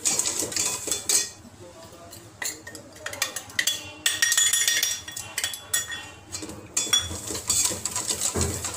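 Spoon scraping and clinking against a pan while stirring a flour mixture over a very low flame, a steady run of close metallic scrapes and taps with no voice.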